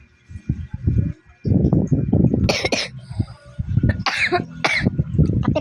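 A person coughs repeatedly at close range in bursts of harsh, throaty hacks separated by short pauses, with some rasping throat-clearing mixed in.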